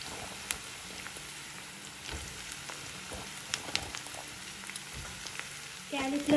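Onions and cauliflower pieces fry in a pan for a cauliflower masala curry, a soft continuous sizzle with scattered crackles and pops, faint and close, with a brief louder clatter near the end.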